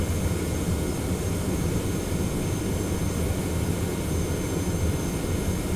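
Boeing 717 jet engines roar steadily on the runway before takeoff on a flight from Amsterdam, a loud, continuous broadband rumble heard from inside the cabin with no talking.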